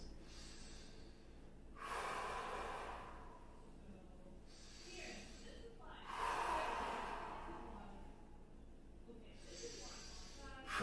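Slow, deliberate breathing in through the nose and out through pursed lips, with three long airy breath cycles close to the microphone in a quiet room.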